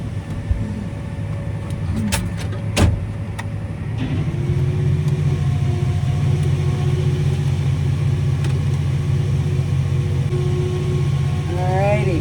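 A farm vehicle engine rumbles while harvested corn is dumped, with a few sharp clicks early on and then a louder, steady low drone. Voices are faintly audible in places.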